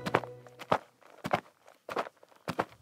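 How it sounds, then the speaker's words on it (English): Steady footsteps of a boy walking down a road, about five or six paced strides, close and distinct against a quiet background. "Josh walks down the road,"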